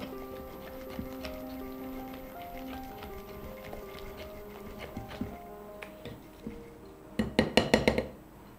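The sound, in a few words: mixing Mysore bonda batter with added coriander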